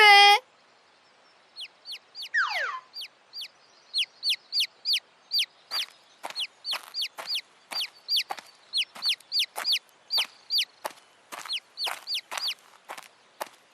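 A chick cheeps rapidly and repeatedly in high, thin peeps, close and clear, after a brief sliding squeak at the start.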